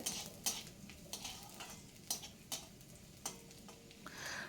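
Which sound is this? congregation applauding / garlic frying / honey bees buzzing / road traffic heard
garlic frying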